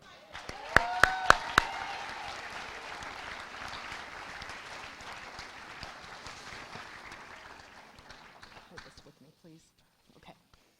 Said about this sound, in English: please help me proudly applaud Kareem King to the podium.